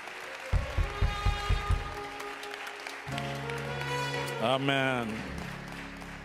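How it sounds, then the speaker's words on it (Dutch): A church congregation gives a brief burst of a few sharp, rhythmic claps, then a voice speaks and music with singing swells in, taking over the rest. "Mogen de Heere Jezus een applaus geven, een klap overgeven."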